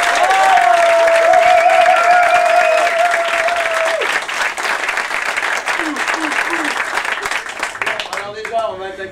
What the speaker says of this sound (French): plus vous m'applaudissez, meilleur je suis